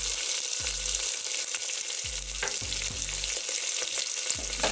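Green chillies and a medium-sized country onion frying in a pan, a constant loud sizzle with occasional utensil knocks and stirring scrapes, close up and without talk.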